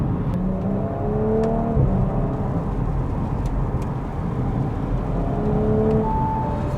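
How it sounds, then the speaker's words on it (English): An Audi S4 B9 accelerating on a wet road, its exhaust rising in a smooth whirring surge with climbing tones and a gear change, loud and close, without talk. "it's just that sound of the exhaust just going,"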